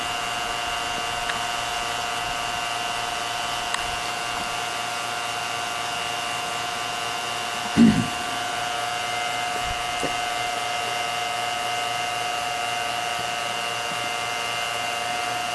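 Vacuum pump running steadily while a Vintage Air AC system is charged on a 1976 Corvette restomod, a constant loud mechanical whine and hum with one brief knock partway through, and no talking.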